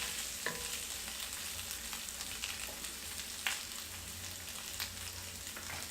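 Sauce being stirred gently in a frying pan for Jägerschnitzel, a steady soft sizzle with occasional light scrapes and clinks of the utensil, close and continuous with no talking.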